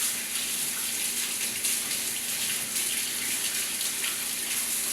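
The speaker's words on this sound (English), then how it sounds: "my fingers are buttery, so I'm going to give them a wash." Tap water runs steadily into a sink as buttery hands are rinsed under it, a continuous close hiss and splash with no speech.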